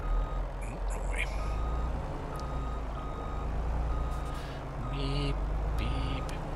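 Truck reversing beeps from Farming Simulator 22 repeat in a steady rhythm over a low engine rumble, with a brief air-brake-like hiss and a person talking over the machinery.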